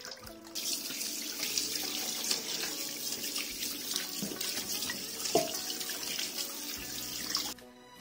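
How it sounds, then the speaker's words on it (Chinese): A large pork bone is rinsed under a running kitchen tap, water splashing steadily and close with small shifts as the bone is turned, before the flow stops abruptly at the end. "先把骨头清洗一下，洗净表面的血水"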